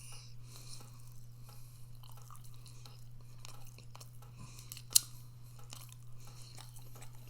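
Soft, close chewing of fatty chicken skin, a steady run of wet, sticky mouth sounds over a constant low hum, with one sharp click near the middle.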